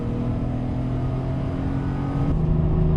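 A 1988 BMW E28 M5 on a hot lap, its engine a steady close drone that shifts pitch and grows slightly louder near the end.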